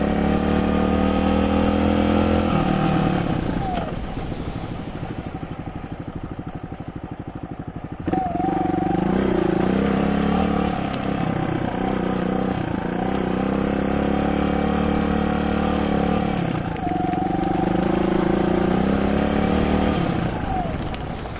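A 2015 Suzuki DR200 dual-sport motorcycle putters over big loose rocks in the woods, its single-cylinder engine droning steadily with repeated throttle blips and revs, close and continuous for about twenty seconds.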